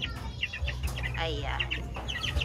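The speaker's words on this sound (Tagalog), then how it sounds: "mga 2 months mahigit na mga manok na white kelso rin po" White Kelso chickens about two months old cluck and chirp softly on a farm, short scattered calls over a low rumbling background, with someone speaking briefly.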